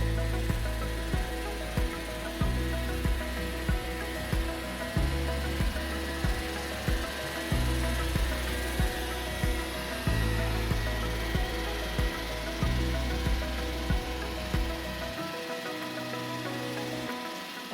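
An iRobot Roomba i7+ robot vacuum runs and moves about, a steady, fairly loud motor whir broken by regular short knocks and scraping bumps as it travels, with no talking.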